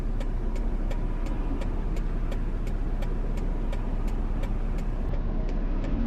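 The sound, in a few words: road traffic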